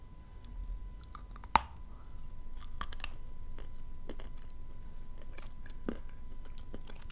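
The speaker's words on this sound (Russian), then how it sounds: "Чернослив интересен тем, что при укусе сорт плотный, он разлетается на мелкие-мелкие такие кусочки" Dried Kyrgyz prunes of a dense variety being bitten and chewed up close, with a sharp bite near the start followed by soft, moist chewing and occasional crunchy clicks, no talking.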